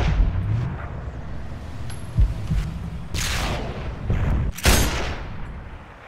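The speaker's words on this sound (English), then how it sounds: "We're gonna be pinned till we can stop that mortar fire" Mortar fire in the video game Sniper: Ghost Warrior 2, several booming explosions and rushing blasts with a low rumble beneath them, spaced irregularly over several seconds.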